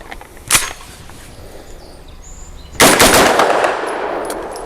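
Two pistol shots from an Extar EP9 Gen 2 firing Winchester Silvertip 115 grain rounds outdoors, a sharp crack followed by a louder blast with a lingering ringing tail.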